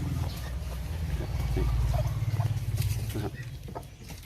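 Hen clucking in a farmyard where chicks are being raised, low steady clucks near the microphone under ongoing background noise and faint voices.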